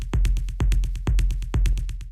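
Techno rumble kick with 16th-note delay repeats driven through an amp effect, crunchy and distorted, deep booming hits in a steady pattern, loud and up front.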